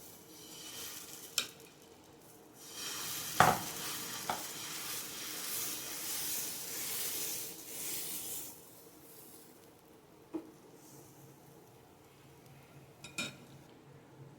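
Dosa batter spread on a hot pan, a soft sizzling hiss swelling for several seconds, with occasional sharp clinks of a utensil against the pan before and after.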